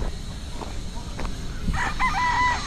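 A rooster crows with a long wavering call near the end, over a steady noisy background with faint clucking earlier.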